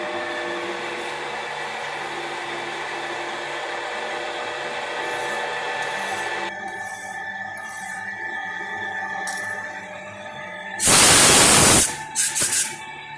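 A lathe cuts 16-threads-per-inch threads in a hydraulics shop, a steady whining tonal hum with hiss that shifts partway through, followed by a loud burst of air spray and short hissing puffs near the end.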